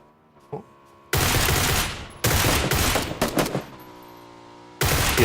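Groza rifle fire in PUBG on Xbox One: loud full-auto bursts, one about a second long, then a longer stuttering burst, a pause with ringing tail, and another burst starting at the end.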